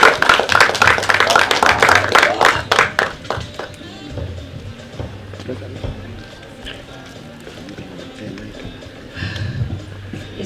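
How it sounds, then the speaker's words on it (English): Audience applause at an event on World Autism Awareness Day, a dense burst of clapping that is loud at first, then thins out and fades under a background murmur of voices. "let's give her a round of applause"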